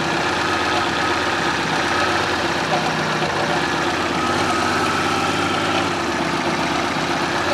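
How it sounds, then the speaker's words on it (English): A Fiat Panda 4x4 Sisley engine idles steadily, a low continuous rumble with a faint mechanical hum, close by and unchanging throughout. "Engine's behaving very nicely."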